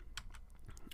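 A few quick keystrokes on a computer keyboard, soft irregular clicks in a quiet room, close and alone.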